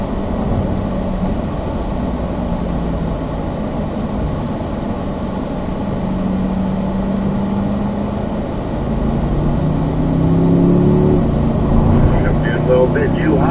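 A Corvette Z06 engine accelerates on a track, a steady loud drone that climbs in pitch toward the end as the car pulls through the gears.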